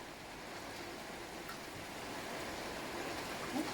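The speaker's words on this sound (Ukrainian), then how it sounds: "дощ іде, ляпотить, воно більше по криші бахкає" Steady rain pattering on a roof, a broadband wash of drumming drops that holds constant throughout at a soft, even level with no voices.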